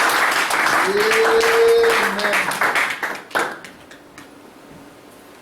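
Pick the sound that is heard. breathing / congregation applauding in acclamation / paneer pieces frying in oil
congregation applauding in acclamation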